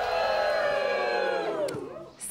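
A studio audience cheers and whoops loudly, a dense burst of crowd noise that gradually fades over a couple of seconds.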